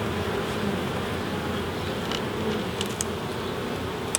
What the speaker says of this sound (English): It's absolutely carpeted in bees, look.